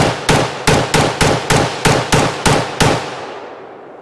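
An LMT MARS-L rifle fires Phoenix ammunition from a Magpul magazine at a shooting range: nine sharp, loud shots in quick, fairly even succession, each cracking close by and trailing off into a brief echo after the last.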